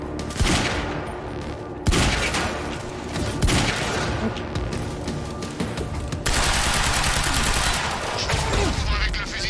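Gunfire in the shooter video game Quantum Break, with repeated loud blasts and bursts in close succession over several seconds, including shotgun fire, forming a dense, busy barrage.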